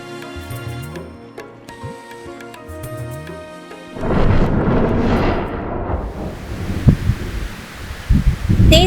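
A cartoon thunderstorm: after a stretch of background music, a deep rumble of thunder rolls in with the hiss of heavy rain, followed by further loud cracks and booms.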